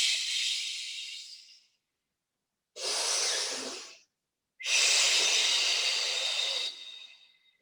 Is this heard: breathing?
yes